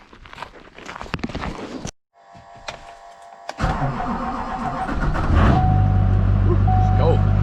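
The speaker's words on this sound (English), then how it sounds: "So first thing I'm gonna do is move this truck over" A truck engine cranks, catches and revs as the vehicle pulls away on a farm by a lambing barn, rising to a loud steady drone, with footsteps and a door beforehand and voices talking over parts of it.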